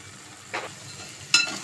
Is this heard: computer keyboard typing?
no